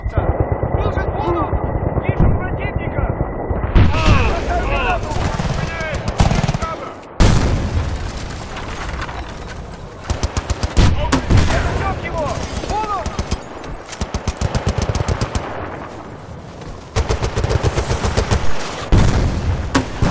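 Rapid gunfire from the Battlefield video game, a 2020 battle royale shooter, with dense machine-gun bursts and single shots crackling almost nonstop, loud and close, mixed with booms and game sounds, and voices calling out in between.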